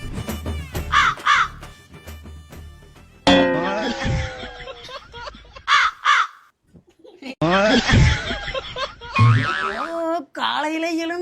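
A crow caws loudly and repeatedly up close, with harsh ragged calls overlapping lively voices and laughter.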